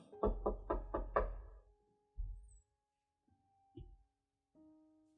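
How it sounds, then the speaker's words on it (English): Four quick, loud knocks sound at the start of a tabletop role-playing game session, followed by a single low thump and a couple of fainter taps against a quiet background. "as Naoma, you hear a knocking sound"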